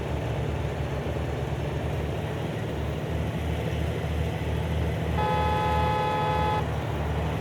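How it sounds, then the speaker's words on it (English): In Farming Simulator 19, a vehicle horn honks in a steady sustained blast partway through, over the constant low drone of a farm vehicle engine during a canola and cotton harvest on a Nebraska map. "That dude's honking his horn because he thinks I'm blocking him."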